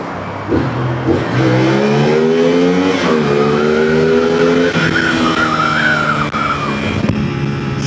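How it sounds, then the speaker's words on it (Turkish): Loud 450 SR sport motorcycle engine revving close by, pitch rising and falling through repeated throttle blips, with a raspy exhaust note that holds steady throughout. "patlatma sesi var egzoza yavaş giderken onda sıkıntı yok ama üst seviyelere çıktığın zaman"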